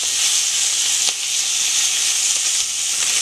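Sausages frying in a pan, a steady loud sizzle and hiss that holds constant throughout with faint crackles, no talking.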